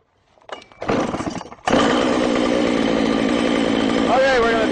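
A chainsaw-powered Lewis winch starts up and runs, a close, loud steady engine drone that rises after a brief sputter and holds under a short vocal sound near the end.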